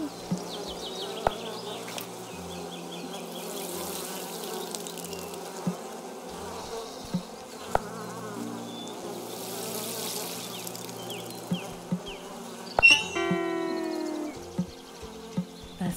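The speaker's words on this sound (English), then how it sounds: "We got some bees" Bees buzz steadily in the cozy witch video game Wylde Flowers, a soft continuous insect drone under the game's ambient music, with faint clicks and a brief chime near the end.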